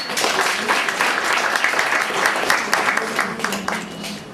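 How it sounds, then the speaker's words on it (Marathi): A crowd at a gathering claps and applauds, a steady dense wash of many hands that holds for the whole stretch, with a voice faintly heard over it. "तुझं स्वागत आहे ताई, जरा जोरात टाळ्या वाजूया."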